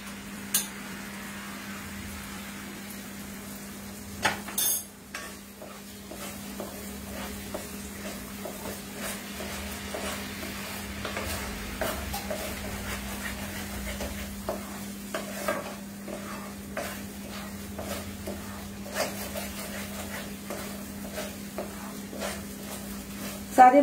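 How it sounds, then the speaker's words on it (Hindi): Spices with garam masala frying and being stirred in a home kitchen pan, a low steady sizzle with occasional spoon scrapes and clinks against the pan, close and fairly quiet, with no talk over it. "सारे मसाले जब भुन जाते हैं"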